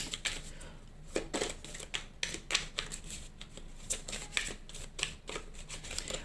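Tarot cards being cut into three piles for a reading, a run of soft, crisp slaps and shuffling riffles close by, spaced irregularly at a gentle pace with no talking.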